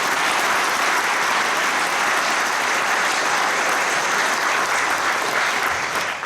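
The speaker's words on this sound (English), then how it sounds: "could you just put your hands together and give a big round of applause to Norman and Ronnie" Dense, steady applause from a concert audience at a flute band's 50th anniversary concert, loud and close, filling the room without a break and thinning only slightly at the very end.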